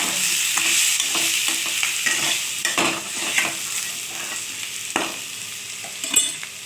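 A spatula stirs potato and pointed gourd curry frying in a pan, with steady sizzling and repeated scraping clinks against the metal, close and fairly loud, with no talking.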